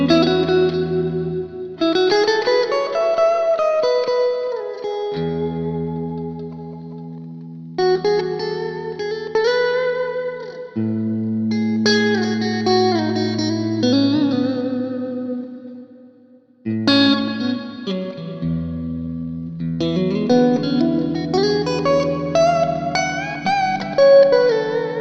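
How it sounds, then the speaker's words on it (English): Electric guitar lead lines played through a hall reverb for ambient-style tones, with chorus-like shimmer and long washy tails under sustained chords, loud and continuous for the whole stretch. "the last thing I have in here is just this hall reverb."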